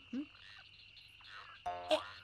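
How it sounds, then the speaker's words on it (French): A frog croaks in a few short, close bursts, with a steady background hum and no voices. "T'es une grenouille."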